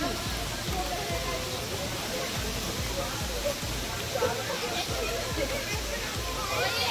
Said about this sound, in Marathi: बघा पाऊस पडतोय